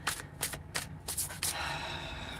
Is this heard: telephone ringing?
no